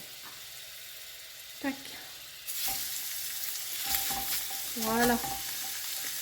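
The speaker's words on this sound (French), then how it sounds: "je vais faire cuire les steaks" Steaks frying in olive oil over high heat, a continuous sizzle that grows louder partway through, with a few clicks and brief speech over it.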